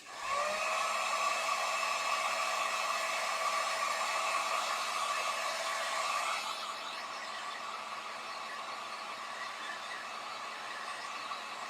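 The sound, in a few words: hair dryer drying a scarecrow craft piece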